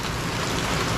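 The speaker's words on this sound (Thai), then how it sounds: "ตอนนี้ฝนกำลังตกนะครับนี่บรรยากาศฝนตกนะครับ" Steady heavy rain pours down during Hurricane Ian, a dense, continuous hiss with no breaks and no wind gusts yet, close and loud throughout.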